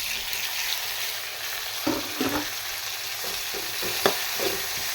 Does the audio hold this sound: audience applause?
no